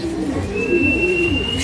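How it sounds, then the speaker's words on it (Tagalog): A racing pigeon arriving at its loft gives a low, throaty coo, close by and continuous over a faint steady background. "Pangalawang bird na natin yan."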